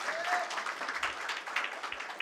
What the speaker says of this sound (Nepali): यसको लागि परमेश्वर ताली बजाएर धन्यवाद दिनुपर्छ है